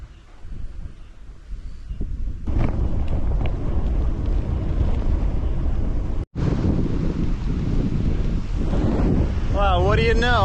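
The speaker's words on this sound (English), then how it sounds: "I hope you can hear me. It's really windy." Strong wind batters the microphone on an island during a bike tour in Korea, a loud continuous roar that cuts out for an instant and then resumes, with someone speaking briefly.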